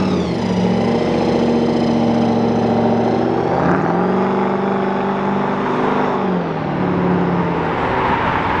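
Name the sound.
Aston Martin DB12 car driving out of Brooklands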